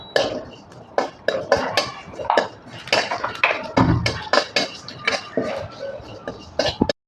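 Cumin seeds, a dried chilli and cut potatoes being stirred in a pan, with repeated scraping and clinking of a spatula against the metal and occasional soft sizzling.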